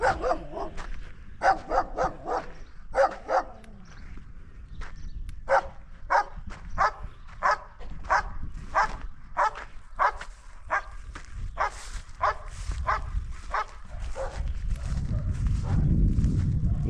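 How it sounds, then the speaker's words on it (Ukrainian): Dogs near a vineyard bark at a wild goat, sharp repeated barks in quick bursts and irregular volleys at a moderate distance, with brief pauses, continuing for most of the stretch. "Собаки злякали."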